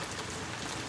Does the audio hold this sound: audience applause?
no